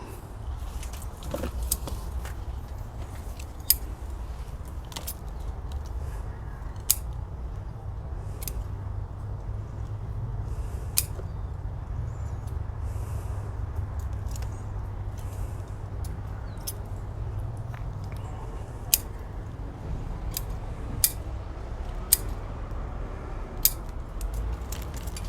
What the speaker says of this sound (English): Definitely could use a little bit of a trim on some of these longer roots though.